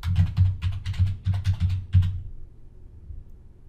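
Fingers type quickly on a computer keyboard at close range, with a short run of distinct key clicks for about two seconds before it goes quiet.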